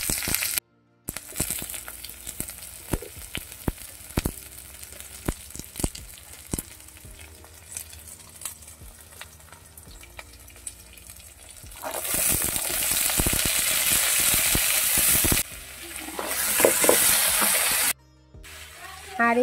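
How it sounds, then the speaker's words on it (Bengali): Potatoes and onions fry in a little oil with a steady close sizzle and occasional stirring scrapes; the frying grows louder and denser midway and carries on almost alone. "এগুলো সব এই যে আলু পেঁয়াজ সবগুলো হালকা হালকা ভাজা করে নেব।"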